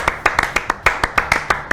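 Hands clapping about ten times in an even, brisk rhythm, close and sharp, with a faint voice in the background.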